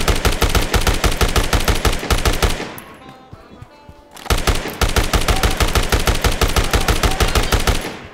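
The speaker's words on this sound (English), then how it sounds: "I take it this guy's using the rocket launcher." Rapid automatic gunfire in the video game Dead Rising Deluxe Remaster, loud and continuous, stopping briefly for about a second and a half before resuming, with no separate rocket blast standing out.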